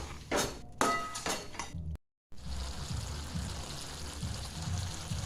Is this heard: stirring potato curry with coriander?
yes